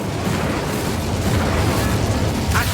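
An Incendio fire spell blasts in Hogwarts Legacy as a dense, loud, continuous fiery roar with crackling bursts, filling the whole moment without any voice.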